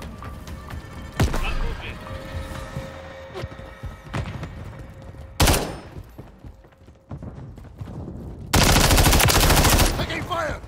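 Gunfire in Call of Duty: Modern Warfare III, a Kill Confirmed match on the Skidrow map, with scattered shots and bursts and a few sharp, loud blasts, the longest a sustained automatic burst near the end, mixed with game sounds and voice chatter.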